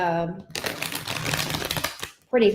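Tarot cards are shuffled by hand in a fast, papery riffling burst lasting over a second, with a voice talking just before and after.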